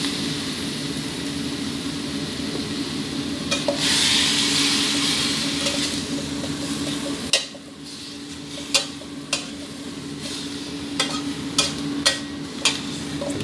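Cabbage with minced pork stir-fried in a pan gives a steady sizzle and hiss, broken in the second half by several sharp spatula scrapes and knocks against the pan, close and fairly loud, with no talk.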